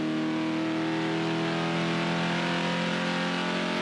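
V8 ute race cars roar down the dry front straight at Hamilton's ITM 400 street circuit, a steady, loud engine drone with layered harmonics sustained throughout, no voices.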